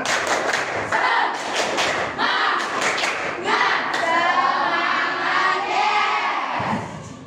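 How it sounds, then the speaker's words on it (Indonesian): A school class claps a rhythmic group cheer pattern together, bursts of sharp hand claps in patterned sequence, loud and close, with children's voices chanting along and joining in. "Oke, tepuk semangat."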